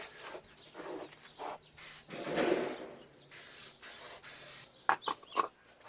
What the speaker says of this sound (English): Because of the breeze, I have to get pretty darn close to it as I spray.